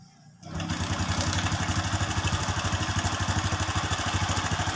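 A motorcycle engine catches after a short quiet start and settles into a steady, loud, close idle with an even rhythmic pulse, running alone with no voices over it.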